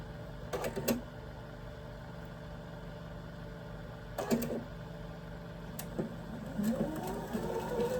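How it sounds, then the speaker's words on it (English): A sewing machine stitching quilt pieces corner to corner, short bursts of rapid mechanical whirring separated by pauses over a quiet background hum, close and moderately faint. "I'm just sewing corner to corner right here."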